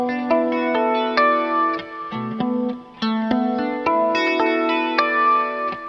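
Guitar harp harmonics ring out as cascading bell-like notes, each chime overlapping the last through chorus, echo and reverb effects, played alone at a moderate, flowing pace close to the listener.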